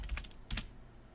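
Several quick keystrokes tap on a computer keyboard, a short burst of typing followed by a slightly louder pair of clicks, close and quiet with no voices.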